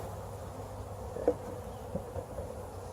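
Honey bees buzz steadily in a soft, dense hum at an open hive during inspection, with a few faint clicks and knocks in the background.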